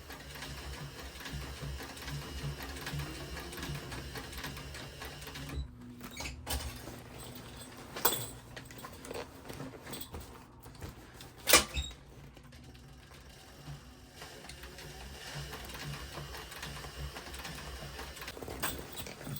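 A sewing machine stitches a leather pin-up battle jacket along a marked line, giving a steady, continuous mechanical whir throughout with a few sharper clicks and knocks partway through.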